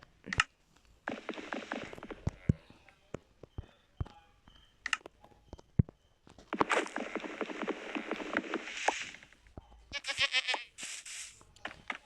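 Several short goat bleats from Minecraft repeat at intervals over a low, continuous game background, with clicks and rustling between them.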